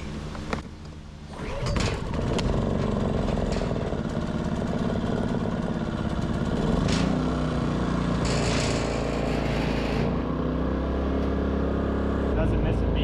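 A Westinghouse iGen 2500 portable generator engine catches after being choked and settles into a steady, continuous run, loud and close, with a brief quieter moment before it fires.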